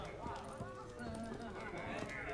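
Horse hooves clip-clop in The Witcher 3, a steady trotting rhythm set low in the mix under constant game music and ambience.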